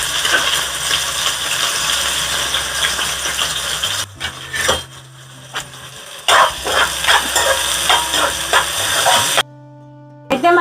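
Onions tipped into well-heated oil for a Rayalaseema-style country chicken curry, giving a broad hiss of frying with clattering bursts and a few brief dropouts, no talk over it.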